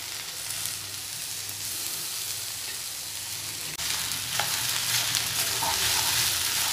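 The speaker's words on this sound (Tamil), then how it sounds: "நல்லா ஃப்ரை ஆகட்டும் இப்போ வெண்டைக்காய் நல்லா வதங்கிருச்சு" Okra fries and sautés in a pan with a constant soft sizzle that grows slightly louder partway through, steady and close with no talking.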